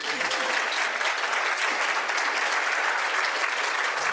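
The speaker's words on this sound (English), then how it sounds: "Please welcome Dr. Emily Messer." A room full of people at a Rotary Club gathering in Fort Worth claps steadily and loudly to welcome a speaker, a dense unbroken wash of applause throughout.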